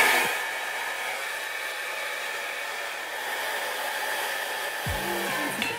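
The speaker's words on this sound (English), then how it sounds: "So I'm just gonna quickly blow dry my hair." A hair dryer blows steadily on hair while curls are being styled, a loud continuous whooshing drone that holds almost unbroken from start to finish, with a brief clatter near the end.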